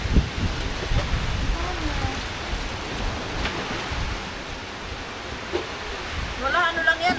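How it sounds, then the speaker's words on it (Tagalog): Light drizzle at a farm during Typhoon Crising makes a steady, soft hiss of rain throughout, with people talking over it. "Ambon lang yan."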